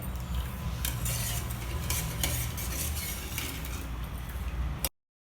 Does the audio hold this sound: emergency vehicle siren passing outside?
no